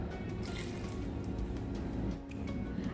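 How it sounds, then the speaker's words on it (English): Water trickles into a bowl of ground ingredients being worked into a fine paste for a green peas curry, a soft steady dripping and pouring close by with no voices. "I'm adding little water."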